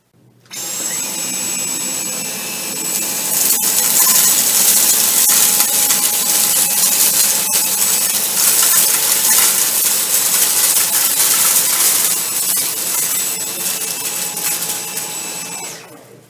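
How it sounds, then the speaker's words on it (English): A Dyson V10 Motorhead cordless vacuum sweeps debris from low pile carpet in a loud, steady whine that holds for about fifteen seconds, with small ticks of grit being picked up. "we ran each machine over it in about a 10 second pass"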